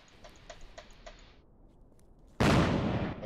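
A single howitzer firing during a live crew drill: one sudden, loud, broadband blast that stays heavy and sustained to the end, preceded by faint rhythmic clicking and quiet.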